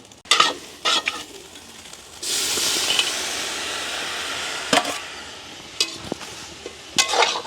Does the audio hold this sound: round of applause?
no